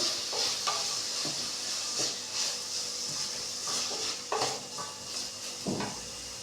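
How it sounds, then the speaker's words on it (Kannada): A tempering of cumin, pepper and garlic, with tomato and onion, fries in a pan. A continuous sizzle is broken by spoon-stirring scrapes and clinks, close and alone. "ಜೀರಿಗೆ ಮೆಣಸು ಬೆಳ್ಳುಳ್ಳಿ ಹಾಕಿ ಫ್ರೈ ಮಾಡಬೇಕು. ಚೆನ್ನಾಗಿ ಫ್ರೈ ಹಾಕಬೇಕು."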